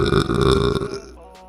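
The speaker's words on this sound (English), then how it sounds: "let's head into FL Studio and record some burps" A single long, loud burp recorded into FL Studio's Edison, a drawn-out throaty belch lasting about a second that fades into quiet.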